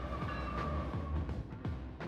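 A freight train passes at speed with a continuous rolling rumble and regular rhythmic wheel clacks over the rail joints, moderately near.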